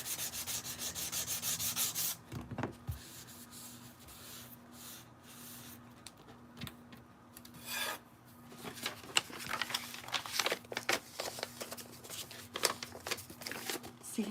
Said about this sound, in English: You just got to keep sanding away and sanding away.